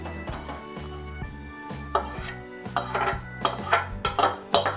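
Mustard flowers are stirred in a wok, a utensil scraping and clinking against the metal in irregular bursts that grow louder and busier toward the end, with no talk.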